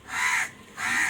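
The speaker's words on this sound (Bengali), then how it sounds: "কাকগুলো কেমন ডাকছে দেখো" Two loud, close crow caws, each harsh and drawn out, separated by a short gap, with no voices over them.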